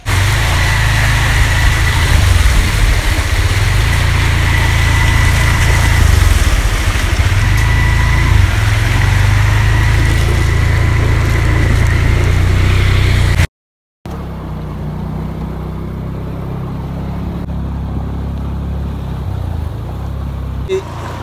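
A motorbike engine runs steadily nearby on a flooded road, a loud low drone broken by a brief cut before resuming slightly quieter.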